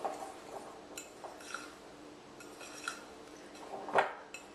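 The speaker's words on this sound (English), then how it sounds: "I'm just going to blend these together so all the ingredients are mixed together well" Baking soda, salt and other dry ingredients for oatmeal drops are stirred together in a bowl, with faint scraping and a few light clinks of utensil against the bowl, the last one louder.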